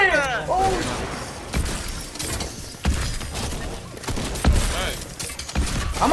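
Shotgun blasts in an arena shooter match, several sharp bursts spread irregularly through the stretch amid busy game effects, with excited players talking over them.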